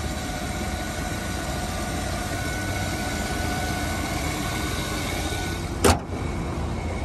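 A 2008 Chevy Avalanche Z71 4x4 with the 5.3 Vortec V8 idles under the open hood, a steady, smooth rumble with a faint whine, interrupted briefly by a short sharp click or knock near the end.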